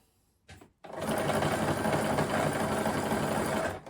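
A sewing machine running a triple straight stretch stitch on jersey knit fabric, starting after a brief click and then whirring steadily and loudly with a fast, even mechanical chatter.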